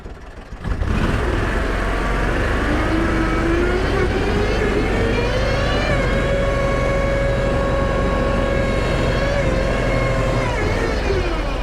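Argo 6x6 amphibious vehicle engine revving under throttle in a wooded swamp. The drone is loud and continuous and rises in pitch as the throttle opens, then holds steady for about ten seconds.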